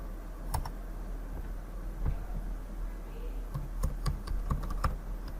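Quiet keystrokes on a computer keyboard come as short scattered bursts of clicks over a faint hum, close by, typing a search term.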